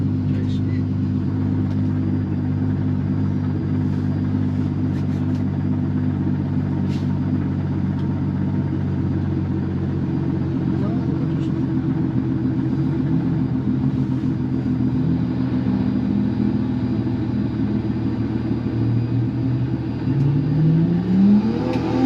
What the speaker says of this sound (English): Look at him waiting for the turbo to come on.